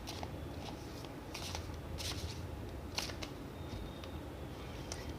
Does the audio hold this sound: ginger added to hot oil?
no